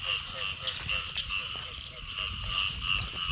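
Many frogs croak in a dense chorus after a night of heavy rain in flooded Thai rice paddies, overlapping near and far calls with a person talking quietly underneath.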